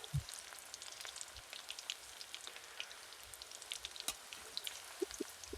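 Chushi pitha, small hand-rolled rice-flour noodles, frying in hot oil, a quiet, soft sizzle with scattered pops and crackles, fairly faint and close, no talk.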